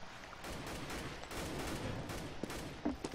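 Counter-Strike: Global Offensive gameplay with AK rifle fire, repeated sharp gunshots in irregular bursts over a busy, continuous game-sound background.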